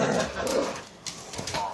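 Two dogs playing tug of war with a toy, giving off close growls and playful grunts in a steady rumbling stream over about two seconds.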